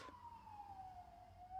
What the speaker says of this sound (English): There's always sirens going off in this place.